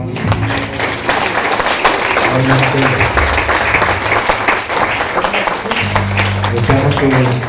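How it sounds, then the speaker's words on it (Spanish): Church congregation clapping steadily throughout, loud and continuous, with sung or spoken voice tones running underneath. "Den un aplauso, por favor"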